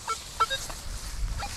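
Outdoors in the UK countryside during metal detecting, a few brief honking bird calls ring out at moderate distance, sounding goose-like rather than songbird, over low wind rumble.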